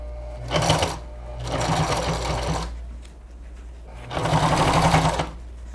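A sewing machine stitching patchwork binding on a makeup case, three bursts of fast rhythmic whirring stitches close up, separated by short pauses over a constant low motor hum.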